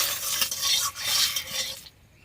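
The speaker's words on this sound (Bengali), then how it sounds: "তেলে দিচ্ছি, কপি কটা ভেজে নেবো গায়ে।" Cauliflower pieces dropped into hot oil in a pan sizzle loudly up close, with utensil scraping and stirring, before fading abruptly.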